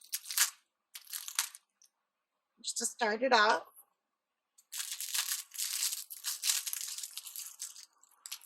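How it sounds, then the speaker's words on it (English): Scissors slice open an Amazon package, giving crunchy, crinkling bursts of cutting and tearing across several seconds, with a short stretch of speech in the middle. "So I'm going to have to quickly grab my scissors"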